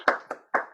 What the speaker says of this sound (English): I'm gonna stay here till you clap.